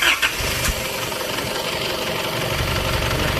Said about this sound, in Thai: สตาร์ทเลย